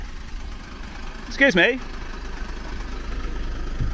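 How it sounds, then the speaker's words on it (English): A stationary car's engine idles outside a police station on Euston Street, a steady low rumble running throughout beneath a brief spoken remark. "Could you turn the engine off, please, while you're stationary?"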